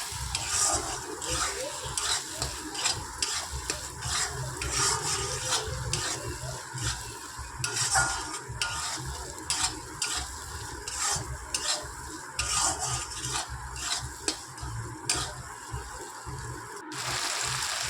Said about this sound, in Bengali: এবার ততক্ষণ কষাতে হবে যতক্ষণ না মশলা থেকে তেল ছেড়ে দিচ্ছে